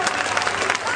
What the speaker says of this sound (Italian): un applauso a Lucia